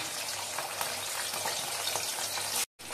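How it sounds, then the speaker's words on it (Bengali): Fish heads hitting hot oil in a kadai, a dense steady sizzle and crackle of frying close up, with no talk, cut by a brief dropout near the end. "তেলটা আমার গরম হয়ে গেছে, আমি মাছের মাথাগুলো দিয়ে দিচ্ছি।"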